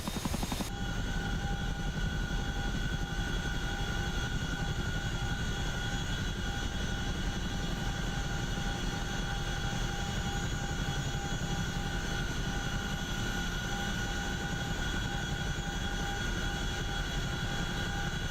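A CH-47 Chinook helicopter taxiing in the flight simulator DCS World, its twin rotors and turbine engines making a loud, steady, unbroken drone with a constant whine for the whole stretch.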